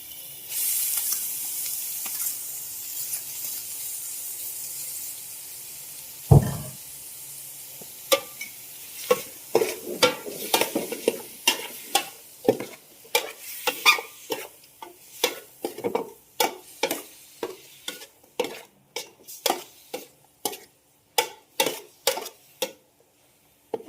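Pork pieces sautéed in a hot pan for Filipino mung bean stew: a loud impact near the start, then steady sizzling broken by a long run of sharp, regular stirring scrapes and clicks, close and without talk.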